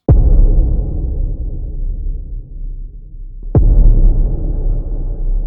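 Two deep, synthesized trailer booms made in Serum 2, each a sharp loud hit followed by a long reverberant low rumble that slowly decays, the second arriving about three and a half seconds after the first.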